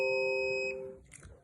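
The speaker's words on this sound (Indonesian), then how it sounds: "maka buzzer akan berbunyi" Buzzer of a NodeMCU-based gas leak and fire detector sounds a steady, loud electronic tone for about a second, then cuts off, leaving faint room noise and small handling clicks.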